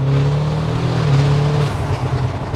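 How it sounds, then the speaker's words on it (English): Engine intake of a tuned 830hp Audi RS6 C8, a steady loud deep drone heard from inside the car as it pulls hard, constant throughout with no talk. "You hear the intake, yeah."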